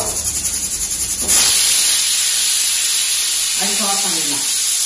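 A pressure cooker whistle: a loud, sustained shrill tone with rushing steam that suddenly intensifies, while a voice briefly speaks near the end.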